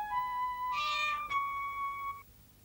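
A cat gives one drawn-out meow, close and clear, with a brief rougher catch in the middle before it fades, heard alone against quiet room background.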